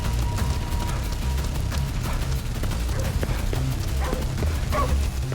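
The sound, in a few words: dog barking in the video game Ghostwire Tokyo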